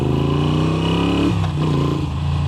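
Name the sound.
Moto Guzzi V7 Stone motorcycle revving with upgraded exhaust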